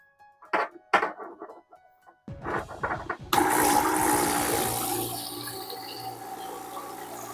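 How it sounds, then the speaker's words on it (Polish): A pump drives water through a hose nozzle, starting after a few knocks and handling sounds, then bursting into a loud, continuous spray that keeps running steadily to the end. "No i powinno robić mi z samej pompy, jeszcze bez kompresora, dosyć taki ciekawy prysznic"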